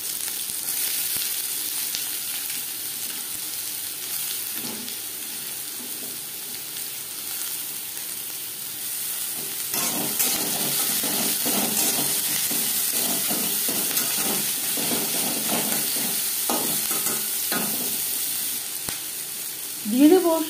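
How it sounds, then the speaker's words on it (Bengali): Chopped onions frying in hot oil in a pan: a steady close sizzle and hiss running throughout, with occasional stirring scrapes and clicks, no talking. "পেঁয়াজ ভেজে নেব।"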